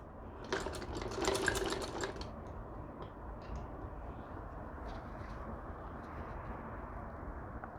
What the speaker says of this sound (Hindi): एक्स्ट्रा धागे कट कर लीजिए एंड फिर से ये डबल स्टिचिंग कीजिएगा दामन में।